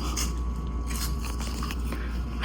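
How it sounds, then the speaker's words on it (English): Crisp crunching bites into a keto cabbage biscuit, a low-carb runza or bierock stuffed with meat, heard close up as a steady run of brittle chewing crackles with no talking. "I hear that crunch and I'm so jealous."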